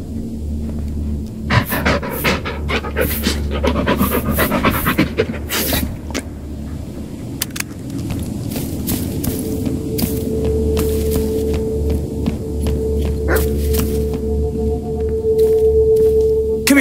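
A dog in the horror game Blair Witch panting rapidly and heavily up close, with rustling footsteps and a low ambient hum, and no voices.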